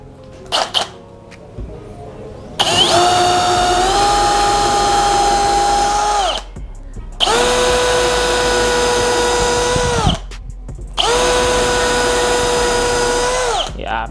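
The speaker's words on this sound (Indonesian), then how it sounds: "Di sini saya menggunakan mata bor beton ukuran 8 ya." A Bosch GSR 185-Li cordless drill with an 8 mm concrete bit bores into soft lightweight brick: three sustained, loud whining runs of several seconds each, separated by short pauses with brief clicks and handling noise.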